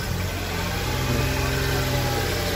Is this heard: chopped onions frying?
no